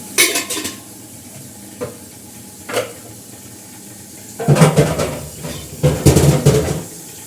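Dishes clatter and clink in bursts, with scraping and knocking of pots and utensils separated by quieter pauses, no talking.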